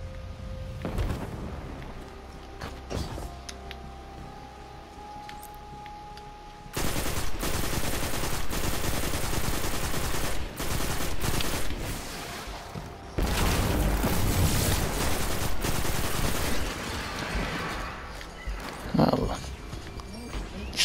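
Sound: gunfire from the player's gun in Destiny 2 video game

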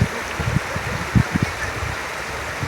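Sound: strong current of flood water flowing

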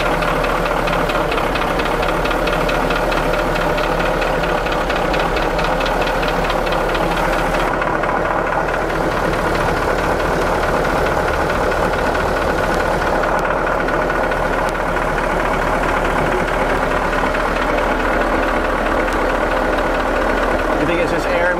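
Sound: diesel ramp truck engine idling

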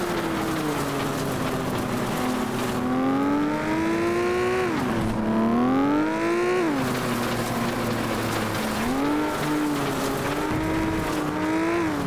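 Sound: car driving and revving, FlatOut video game

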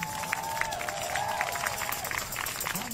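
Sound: crowd clapping for a singer in the park

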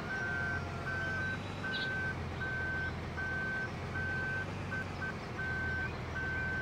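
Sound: vehicle reversing beeps in video game

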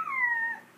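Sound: human voice imitating a high-pitched wolf howl

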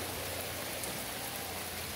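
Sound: heavy rain falling

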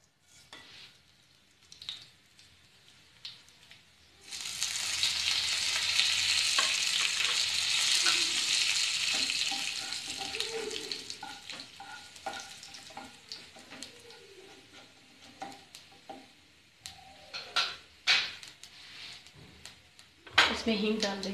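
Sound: cumin seeds sizzling in hot oil for red chilli sauce

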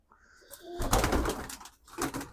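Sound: pigeon cooing

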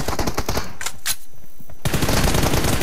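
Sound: gunfire from a video game

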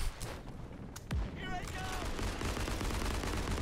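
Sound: Model 1917 revolver gunfire in video game Day of Infamy

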